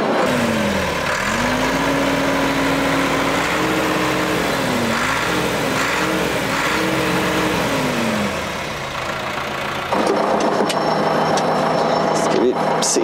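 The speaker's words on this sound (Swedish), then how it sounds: "Och fint i motorn här när man ger lite gas." The engine of a Ford 7610 tractor runs close by and revs several times, its pitch rising and falling, then settles back to a steady rumble.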